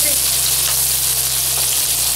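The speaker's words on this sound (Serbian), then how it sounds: "Potom dodajem opet 30 g putera, malo sačekam da se istopi." Butter melts in a hot frying pan after pork chops were fried in it, giving a continuous, even sizzle and crackle close by for about two seconds, with no talk.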